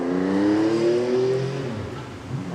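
A 1979 Benelli 750 Sei six-cylinder motorcycle engine revs up with a rising whine, holds high, then drops back, loud and close, with no one speaking.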